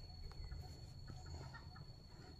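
Chickens cluck faintly at a distance under a low background rumble, with soft, scattered clucks.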